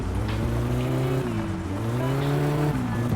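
A car engine in the game My Summer Car revs up and drops as the driver downshifts, a steady droning tone that rises and falls in pitch over a few seconds, close and loud.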